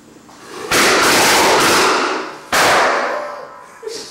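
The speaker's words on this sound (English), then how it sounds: "We got a string of firecrackers in here, and now it's gonna Hold go." A string of firecrackers goes off close by in two loud, sharp crackling bursts, each clattering on before fading, followed by a small pop.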